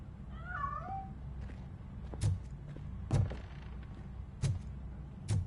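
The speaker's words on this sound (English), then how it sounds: "That cat must be hiding inside." A cat meows once near the start in RoboCop: Rogue City, followed by several heavy thumps at roughly one-second intervals over a low background rumble.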